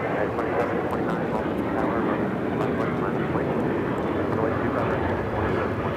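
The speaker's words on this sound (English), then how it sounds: "This is American Airlines 613 taking off to Chicago on the 737-800." An American Airlines Boeing 737-800 taking off at LAX, bound for Chicago, gives a loud, steady, broadband engine roar that holds throughout, with voices talking over it.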